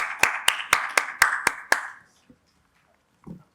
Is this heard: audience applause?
yes